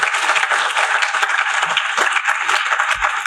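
A library audience at a writers' festival award ceremony claps steadily, a dense, even wash of applause that holds for the full few seconds.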